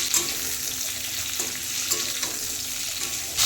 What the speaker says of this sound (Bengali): পটলটা ভেজে নিচ্ছি নুন হলুদ দিয়ে।